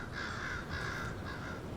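A crow caws three times in a row, loud and fairly close, harsh repeated calls over a steady outdoor background.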